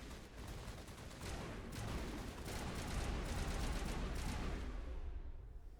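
Continuous video game combat in Mass Effect Legendary Edition, dense bursts of gunfire and explosions layered without a break, loud and sustained throughout.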